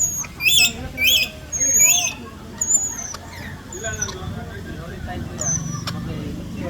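Birds squawk at a bird feeding area at Cebu Ocean Park, loud harsh calls in quick bursts near the start, then scattered sharper cries and whistles amid background chatter of people.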